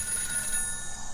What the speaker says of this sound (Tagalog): Sankit din asumardeng agkiriring daytoy at telepono.